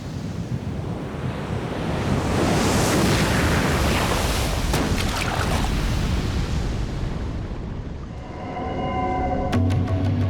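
Ocean waves crash and wash onto a secluded beach in a broad, roaring surge with wind buffeting the microphone, easing briefly before a tonal ringing enters near the end.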